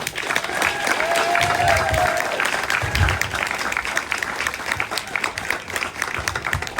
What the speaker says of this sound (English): But again, round of applause